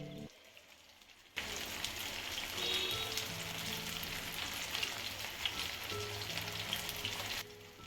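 Fish frying in oil in a pan for a crispy fish fry, a quiet lead-in, then a steady dense sizzle with crackling pops that runs for several seconds before easing off at the end.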